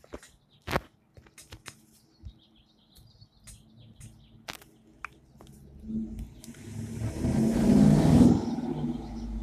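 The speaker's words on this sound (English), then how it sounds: "You can obviously hear cars." A car rises from near silence and roars past close by, engine swelling toward the end, with scattered faint clicks and a few bird chirps earlier.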